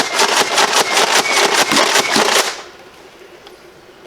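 Mega XL toy blaster slam firing at a tower shield, a rapid series of about a dozen loud rhythmic thumps and clacks that ends abruptly, leaving near silence.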